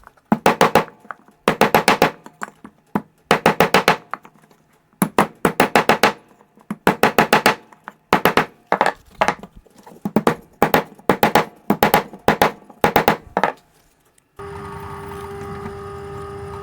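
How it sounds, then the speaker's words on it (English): Repeated hammering on the metal tabs of a homemade exhaust pipe flange to flatten them, loud close ringing strikes in rapid clusters with short pauses between, ending in a steady mechanical hum. "I'm going to just hammer these down, flatten them out a little bit"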